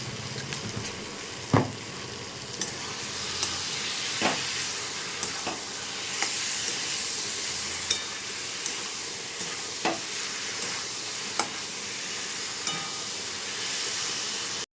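Spices and vegetables sautéing in a pan for a rohu fish curry with papaya and potato, a steady close sizzle broken by regular stirring scrapes and clinks.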